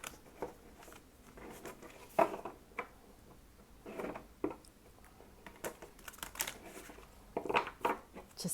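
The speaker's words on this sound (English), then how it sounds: "Just give me a few more shuffles." Tarot cards being shuffled by hand, an uneven run of crisp riffles and flicks in short bursts with quiet gaps between them, close and fairly faint.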